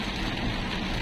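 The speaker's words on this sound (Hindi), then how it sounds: "बारिश अभी भी उसी गति से हो रही है, काफ़ी मूसलाधार बारिश हो रही है।" Heavy monsoon rain pours down during a car drive on the road from Patna to Muzaffarpur, a dense, steady hiss with a low rumble of the moving car underneath, continuous and without voices.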